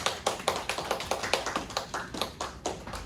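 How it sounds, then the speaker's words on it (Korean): A youth congregation at a Sunday church service claps in a quick, fairly even rhythm, individual sharp claps standing out in a steady beat, moderately distant and soft with no talking. "박수."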